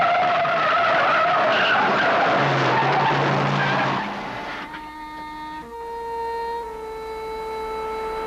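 A speeding car skids with a loud sustained screech of tires lasting several seconds, then fades into lingering tonal squeals and ringing tones that die away.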